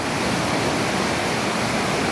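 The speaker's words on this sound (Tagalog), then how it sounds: "Oh, tingnan nyo yung ano namin, ilog. Paano ka makakaligo dyan, oh? Ang lakas ng alon." A fast, strong-flowing river fed by hot spring water from Kanlaon rushes in a steady, dense roar of broadband water noise, close and continuous, with no voices.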